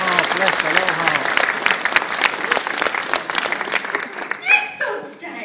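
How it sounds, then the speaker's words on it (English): Audience applause for a singer at a small performance, lively clapping and cheering with a voice speaking over it, the clapping thinning out near the end. "I'm going to give you another big round of applause"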